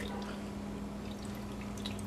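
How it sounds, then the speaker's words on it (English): Heavy cream poured from a container into a saucepan, a soft continuous liquid trickle and drip at moderate distance over a steady low hum, with no voices. "We're going to add our 3 cups of the heavy cream."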